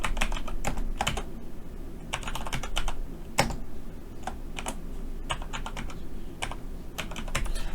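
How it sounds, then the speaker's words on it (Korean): Steady typing on a computer keyboard, bursts of crisp key clicks in an irregular rhythm, close and clear over a low background hum, with no voices. "그래 놓고 일단 타이핑 좀 할게요."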